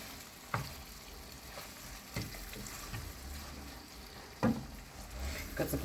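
Meat frying in a pan with black pepper and salt, a low steady sizzle broken by a few sharp scraping clicks as it is stirred, fairly quiet and close.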